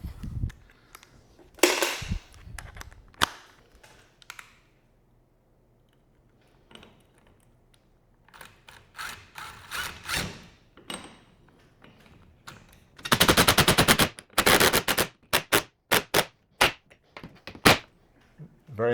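A screw driven into a garage wall or ceiling with a universal hex attachment on a power driver for mounting a punching bag, heard as bursts of loud whirring and clacking with quiet gaps and scattered knocks, no talk.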